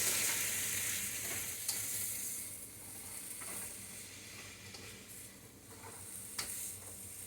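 Sliced potatoes and sweet potatoes frying in sesame oil in a wok for a chickpea stir fry, giving a steady, loud hiss and sizzle throughout with occasional light scrapes and clinks of stirring.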